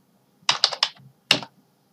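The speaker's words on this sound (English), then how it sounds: "press enter on keyboard" Keys pressed on a computer keyboard while working in AutoCAD 2020: a quick run of three close clicks, a pause, then one sharper keystroke, crisp against a quiet room.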